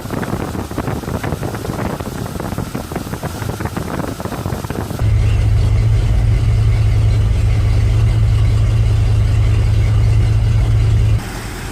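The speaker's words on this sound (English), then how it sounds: "and then I'll start the engine." A Chevy engine with a fuel pressure problem cranks and catches, then settles into a loud, steady low-pitched idle that holds for several seconds, with wind buffeting the microphone throughout.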